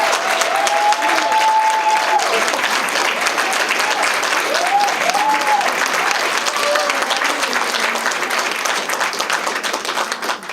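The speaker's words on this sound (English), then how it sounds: "Please join me in a round of applause to celebrate Becky's upcoming retirement." Audience applause at a workforce agency's year-end open house celebrating a colleague's upcoming retirement, sustained loud clapping from a crowd filling the whole stretch, with a few faint voices or cheers mixed in.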